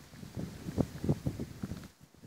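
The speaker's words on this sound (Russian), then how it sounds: "Да, очень большой ветер." Gusty wind buffets the microphone in uneven low rumbling bursts, loud and close, easing off toward the end, outdoors at an ice hole in winter.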